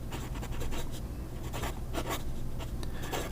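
A fountain pen with a Schmidt fine nib scratches steadily across paper in close, continuous strokes, with soft rhythmic swells as the writing moves along.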